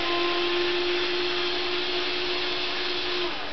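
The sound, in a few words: cordless screwdriver in use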